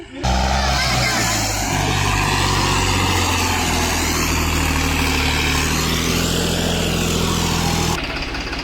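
A New Holland 6510 tractor engine runs loud and close while working in mud on a village farm field, a steady heavy diesel roar throughout, with voices underneath.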